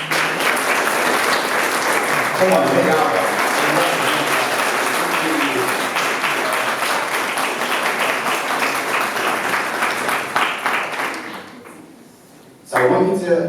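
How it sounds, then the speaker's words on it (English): A school audience applauds in a loud, sustained wash of clapping that fades near the end before a voice cuts in; a few words are spoken over it. "so they deserve a round of applause"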